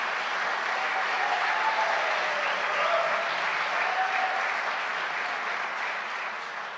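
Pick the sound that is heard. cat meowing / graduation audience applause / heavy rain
graduation audience applause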